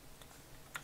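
Two or three quick, faint key taps on a computer keyboard near the end of a quiet moment, as a command is typed into a command window.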